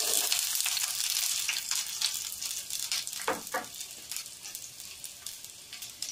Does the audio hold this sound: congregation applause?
no